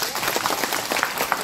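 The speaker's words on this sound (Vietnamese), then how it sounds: "chúng ta nên cho thầy Tuệ Minh một tràng pháo tay." A short, busy round of clapping for a monk during a temple gathering on a Lunar New Year's Eve chanting service, many hands patting quickly at a moderate level.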